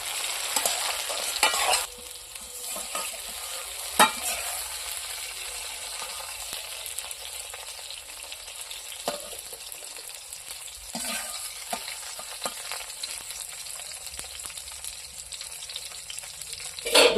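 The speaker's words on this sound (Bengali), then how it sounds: "বেগুন ভাজা তেলের মধ্যে আমি কয়েকটা শুকনো লঙ্কা ভাজি নেব।" Eggplant slices fry in hot oil with a steady, continuous sizzle and occasional stirring scrapes and pops, close and fairly loud throughout, with no voices.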